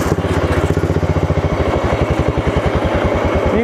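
A racing lawn mower engine with a performance carburetor idling in third gear on an off-road mower, a loud, close, lumpy rhythmic chug of steady pulses that tighten slightly toward the end, with brief talk underneath.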